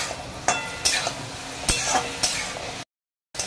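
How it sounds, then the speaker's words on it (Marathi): Gosavli vegetable frying in oil, a soft steady sizzle broken by several sharp stirring scrapes at irregular intervals, close but fairly quiet, with a brief silent gap near the end and light talk. "ही भाजी फक्त फ्राय करत राहायची आहे"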